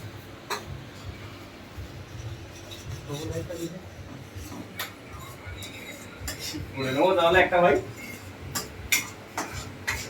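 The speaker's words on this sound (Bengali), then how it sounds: "রান্না চলছে, দাদারা রান্না করছেন।" Cooks work in a clean resort kitchen near Bagda beach, with pots, dishes and cutlery clinking in scattered sharp knocks and a louder clattering burst, under ongoing voices.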